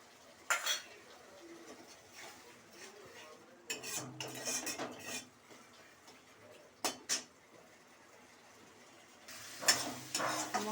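A spoon scrapes and knocks against a pan while spice paste with a little water is stirred and fried for a Bengali lentil fritter curry, in intermittent bursts with quiet gaps and no talking.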